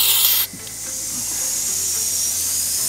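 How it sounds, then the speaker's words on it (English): Steady high hiss of pressurized air escaping from a leak in a car's intercooler system under a pressure test, continuous and fairly faint after a brief louder burst at the start, with no voices. "Now we can hear a leak happening, and all we have to do is find it."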